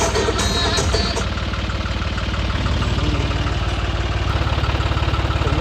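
A tractor engine idles steadily nearby, a dense low rumble with a fast, even mechanical throb and faint rattling vibration throughout, with no talk.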